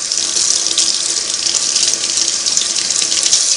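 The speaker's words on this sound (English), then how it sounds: "I rinse off my throat plate or needle plate." Tap water runs steadily into a sink, rinsing the needle plate of a Singer 301A sewing machine, a close, loud and continuous splashing hiss with no voices.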